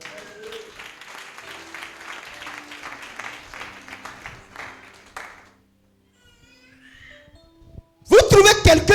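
A church congregation breaks into loud, dense applause for the Lord near the end, after a preacher speaks at length and then briefly pauses in near silence.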